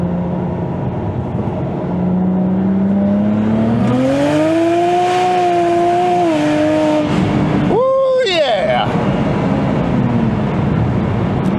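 A BMW with the N54 engine accelerates hard, its engine note climbing in a loud sustained rise before a sharp squeal of spinning tires cuts through, with the engine roaring continuously throughout.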